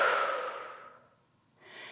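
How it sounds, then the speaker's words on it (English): Deep breathing during a Pilates stretch on a reformer: one long, loud exhale that gradually fades, a short pause, then the next breath drawn in, close and alone with no talk. "Open through your chest, 2 big breaths here."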